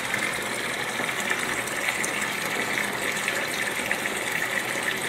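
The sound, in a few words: hose siphoning dirty water from an aquarium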